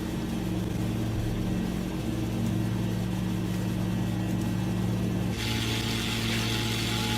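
Rocky Mountain Air plane engines run at maximum takeoff thrust on departure from Golden, a loud steady drone with a low tonal hum that shifts in character partway through, heard from inside the aircraft with no talk.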